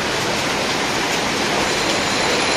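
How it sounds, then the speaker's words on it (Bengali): Rain falling outside on a Friday morning, a dense steady wash of broadband patter with no breaks, moderately loud and even throughout, no voices. "বাইরে কিন্তু খুব সুন্দর বৃষ্টি হচ্ছে"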